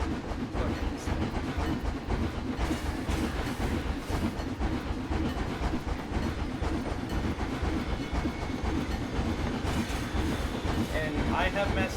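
A steam train in the Planet Coaster video game rolls along with a steady clickety-clack rumble and hiss, continuous and fairly loud. No distinct whistle stands out, and a voice can be heard talking over it.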